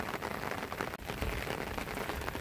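Steady light drizzle pattering densely on surfaces, an even hiss of fine drops with no talking.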